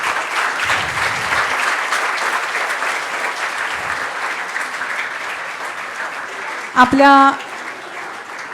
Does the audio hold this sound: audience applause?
yes